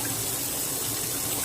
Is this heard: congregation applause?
no